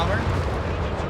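A brief burst of bombing-strike explosions in the Company of Heroes 3 strategy game, a loud continuous rumble of blasts heard under speech.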